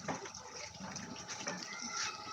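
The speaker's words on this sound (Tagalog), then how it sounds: "O, kita mo, naihi na ng tubig." Water gushes steadily from a pipe outdoors in a neighbourhood with supply problems, a faint continuous hissing flow with low background murmur.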